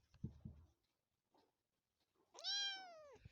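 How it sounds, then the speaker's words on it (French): A cat gives one clear, drawn-out meow with a rising and falling pitch. It comes after a stretch of near silence with a few faint, soft noises, and it is close and fairly loud. "Cette vidéo va pas se terminer sans qu'il ne miaule."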